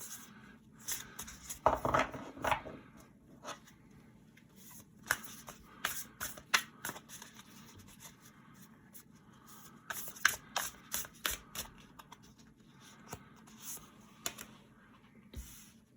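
Tarot cards are shuffled and handled close up for a love reading, with soft riffling, slapping and sliding in irregular bursts, quiet and without talk.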